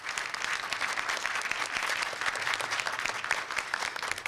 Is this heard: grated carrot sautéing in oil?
no